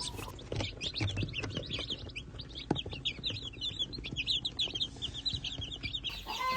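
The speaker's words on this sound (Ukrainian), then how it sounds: "вже і вилупилися перші курчата цього року" Newly hatched chicks, fluffy Pentamka chicks on a smallholding, cheep in a dense, continuous chorus of high peeping, close and loud, with soft low clucking and faint shuffling beneath.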